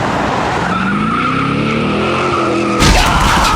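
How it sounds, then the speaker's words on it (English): A car shifted into reverse revs as tires skid and squeal on pavement, ending in a louder, harsher burst of noise. "Just shift into reverse and drive."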